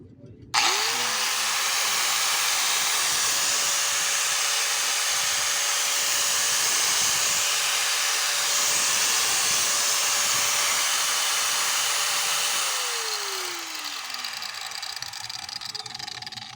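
A 750-watt Ingco angle grinder is switched on and spins up to a loud, steady high-pitched whine that holds for about twelve seconds, then winds down as the motor is cut.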